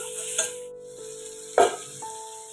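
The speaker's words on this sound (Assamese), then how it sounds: "আৰু এইখিনি অকণ ধুনীয়াকৈ ভাজি ল'ব" Tomatoes frying in a pan for a mock fish gravy, a steady soft sizzle with a couple of louder stirring scrapes, close and without talk.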